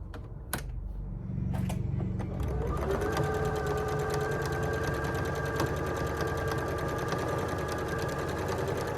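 A sewing machine stitches a quarter-inch seam on a sashed T-shirt quilt, starting after a few soft clicks and handling noises, then settling into a loud, fast, steady rattle that runs to the end.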